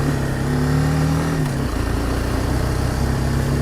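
A Suzuki DRZ 400 motorcycle rides close by on a wet trail with puddles, its engine droning loud and steady, dipping in pitch midway, then holding a constant hum with no voices.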